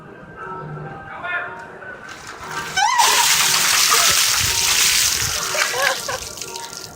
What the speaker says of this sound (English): our lucky film crew member, Corey, gets to be dumping the water on us today